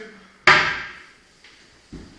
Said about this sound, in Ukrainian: Над витяжкою такого плану дверки, які теж з дотягувачами вони не гримають.